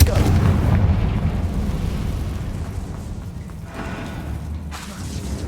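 A Confringo fire spell blast in Hogwarts Legacy: a deep rumbling burst that rolls and fades steadily over several seconds, with no voices over it.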